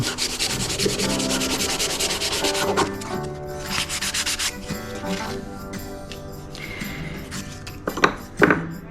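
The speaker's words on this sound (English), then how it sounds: "I have to sand all of this stuff first, so that's what I'm gonna do now" Wooden parts for a standing lamp are sanded by hand with steady back-and-forth rubbing strokes, close and continuous, with a few light clinks of pieces being handled near the end and no talk.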